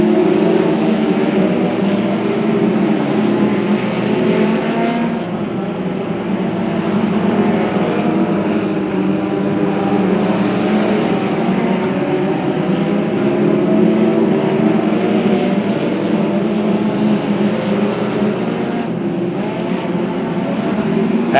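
Race cars roaring around the Macon Speedway oval through the third and fourth turns, a steady loud wash of engine noise from several cars that holds for the whole stretch with no break.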